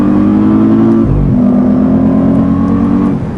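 A 2017 Audi S8 Plus under hard acceleration, a loud, close engine drone climbing in pitch, dipping briefly at a gear change, then pulling strongly again with no talk over it.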